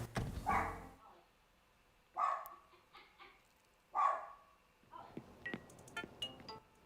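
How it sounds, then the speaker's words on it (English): A dog barks in short bursts in the background of a home garden setting, a few separated yips and barks, fairly distant and faint, with quieter clatter between them. "I apologize for the dog barking in the background."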